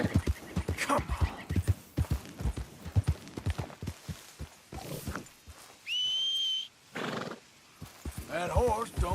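Horse in Red Dead Redemption 2 neighing amid steady clip-clopping hooves, with a sharp whistle and later a whinny, while people talk over the scene.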